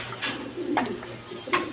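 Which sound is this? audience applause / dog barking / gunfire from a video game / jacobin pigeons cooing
jacobin pigeons cooing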